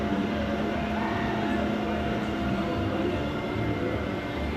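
Skywinder roller coaster train at Six Flags America, a continuous low rumbling roar with a steady clattering texture, fairly loud and unbroken throughout.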